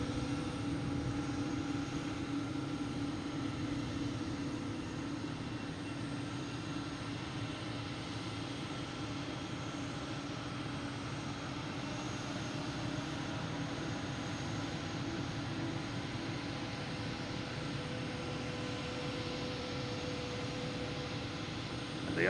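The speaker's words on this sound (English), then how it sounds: "It's an A350-900, flight 54 coming in from Zurich." A Swiss Airbus A350-900 on flight 54 arriving from Zurich produces a long, steady jet engine drone with a faint high whine, constant in level and heard alone without talk.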